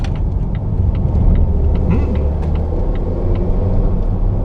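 A 2016 Volvo XC90 T6 R-Design takes corners, heard from inside as a loud, steady low rumble of engine and road noise with a constant whir throughout.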